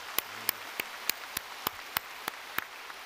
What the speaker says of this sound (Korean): 귀한 말씀을 증거해 주신 우리 목사님께 다시 한번 감사의 박수를 드리겠습니다